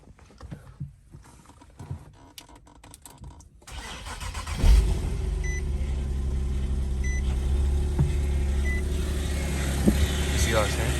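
After quiet shuffling, an Infiniti Q60 being rebuilt cranks and catches, then settles into a steady close idle, with people talking around it.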